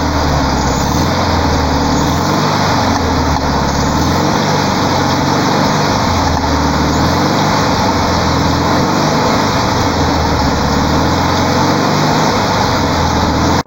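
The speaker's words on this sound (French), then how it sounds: "c'est un combi moderne que j'utilise. Donc je vous fais ça, le test je le démarre" A modern VW Combi van engine runs steadily for the whole stretch, a loud, close, continuous rumble with a slow rise and fall in pitch as it revs, and no voices.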